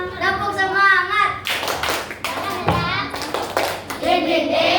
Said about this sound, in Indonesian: Kita tepuk semangat dulu ya, biar semuanya tambah semangat.